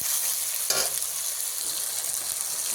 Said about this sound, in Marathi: तर मंद आचेवर चांगला परतूया तेल सुटेपर्यंत.